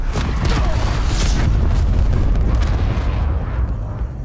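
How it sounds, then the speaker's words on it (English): Heavy booming explosions in Call of Duty: Black Ops Cold War rumble continuously, loud and dense, like a barrage of blasts with deep low-end thuds. "and all these explosions, bro. I'm scared."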